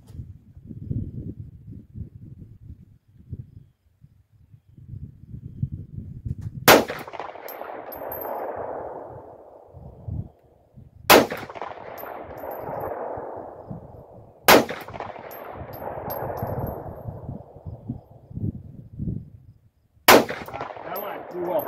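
Four loud Glock 43 pistol shots ring out one at a time, each a sharp crack with a long echoing tail, fired at a steel target 200 yards away outdoors, with low wind rumble and handling noise in the gaps.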